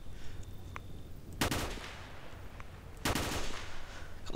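Two loud bursts of automatic gunfire in the video game S.T.A.L.K.E.R. Shadow of Chernobyl, separated by a short lull with faint scattered shots and a steady low hum in between.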